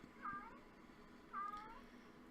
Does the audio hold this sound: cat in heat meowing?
yes